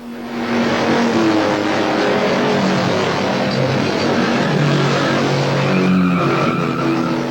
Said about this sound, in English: Last car in road race is just past our checkpoint.